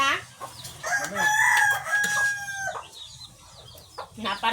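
Rooster crowing at a backyard poultry setting where chickens are kept, a single loud, drawn-out crow with a rising then sustained tone, close to the listener, with faint clucking and bird noise around it.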